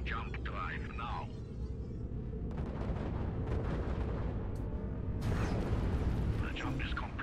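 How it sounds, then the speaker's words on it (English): A spaceship's jump drive spooling up and firing in the space combat game Fractured Space, rising as a dense rumbling, booming roar with bursts of crackling energy that swell near the middle and again toward the end, loud and close with a voice heard briefly. "Preparing jump drive now."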